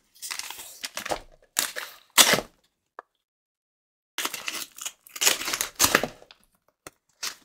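Bursts of crisp paper tearing and slicing as an envelope is opened with a paper knife, several short cuts separated by silent pauses, close by with no talking.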